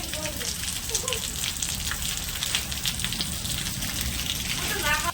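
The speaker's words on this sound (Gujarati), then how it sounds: "જો ભાઈ વરસાદ જો કેવો મસ્ત પડ્યો" Steady rain falls and patters on surfaces close by, a continuous hiss of drops throughout with a voice briefly speaking over it.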